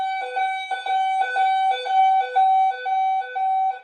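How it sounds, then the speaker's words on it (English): A fire alarm panel beeps in a steady repeating pattern of loud, clear tones alongside an emergency voice alert system during a walk-test, the beeps pulsing rhythmically and close. "you can hear a panel beeping in the background of that message"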